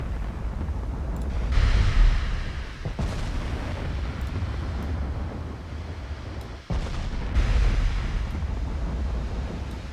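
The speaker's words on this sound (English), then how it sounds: "Now they're returning fire" Heavy naval gunfire in the video game Ultimate Admiral Dreadnoughts, deep booming salvos around two, three and seven seconds over a continuous roar of wind and sea.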